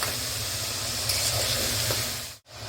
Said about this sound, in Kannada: 1-2 ನಿಮಿಷ ಫ್ರೈ ಮಾಡ್ಕೊಳ್ಳಿ